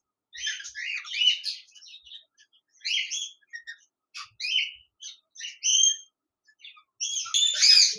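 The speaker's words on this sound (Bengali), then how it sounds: "এখানে দেখতে পাচ্ছেন এক জোড়া লুটিনো রেড আই কোকাটেল পাখি রয়েছে" A pair of lutino red-eye cockatiels calling up close, a run of shrill chirps and squawky whistles in short bursts with gaps of quiet between them.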